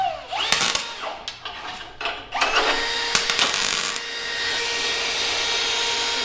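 A power drill bores holes through the layered frame of an off-road 6x6 vehicle. Loud, close whirring comes first in short bursts with clunks between them, then settles into a steady sustained drilling drone.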